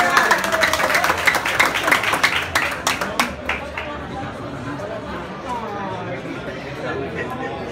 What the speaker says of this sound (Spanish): Yo quiero que me den un aplauso grande a Laila